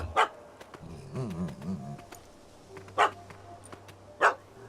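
A dog barks in The Witcher 3 while a cat has fled up a tree. Three sharp, loud barks come at spaced intervals over quiet game ambience, with a brief whining tonal sound between the first and second bark.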